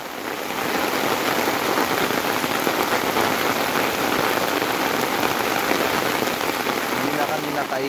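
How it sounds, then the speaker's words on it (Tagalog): Heavy rain pours steadily and loudly, a dense unbroken hiss of drops drumming on a surface throughout. "Ang lakas ng ulan."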